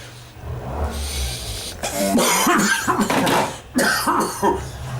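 Repeated coughing and throat clearing from an adult after sniffing strong tobacco, including a chocolate-flavoured Cuban-style blend, outdoors with friends; several harsh close bursts in two clusters over low background rumble.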